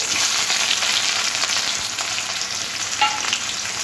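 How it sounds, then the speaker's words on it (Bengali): Sliced onions frying in hot oil with dried red chilli and nigella seeds for a radish-greens dish, a loud continuous close sizzle and crackle with no talking. "পেঁয়াজটা একটু হালকা ভাজা ভাজা করে নেব।"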